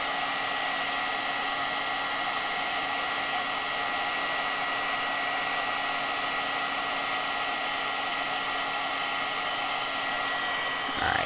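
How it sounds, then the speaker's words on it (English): A heat tool warms embossing powder for a paper craft project, blowing a steady, close airy whoosh with a faint motor hum that holds unchanged before stopping at the end. "once your heat tool is warm enough, you can do that pretty quickly"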